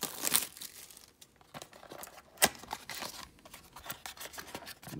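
Foil wrapper of a 2019-20 Upper Deck SP Game Used hockey card pack being torn and opened, sharp crinkles and a ripping snap up close, followed by rustling handling.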